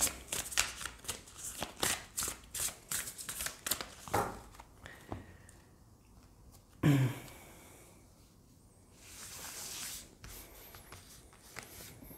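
Oracle cards from the Power of Love deck being shuffled by hand, a fast run of close papery riffles and slides that slow into a few softer rubs and flicks, with no talking.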